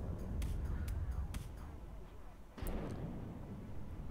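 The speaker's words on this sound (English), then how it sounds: "Good fire support from his tanks, even though they are taking fire from ATGMs." Tank cannon fire and anti-tank guided missile fire in a wargame battle: repeated booming shots and rumbling impacts, fairly loud over a continuous low rumble, with a sharp blast near the end.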